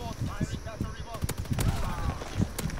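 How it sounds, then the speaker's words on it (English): Artillery and gunfire rattle through a video game battle, a rapid string of sharp booms and cracks, fairly loud, with a voice talking over them. "I got some artillery out too."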